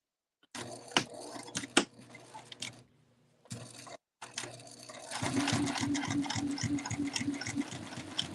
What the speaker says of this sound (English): So I'm going to stitch my strap on.